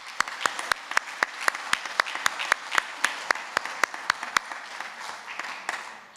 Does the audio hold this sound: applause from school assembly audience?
yes